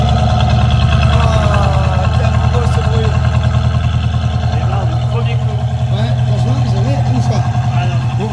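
Imported American muscle car engine idling with a deep, steady, loping rumble throughout, loud and close, while people talk over it.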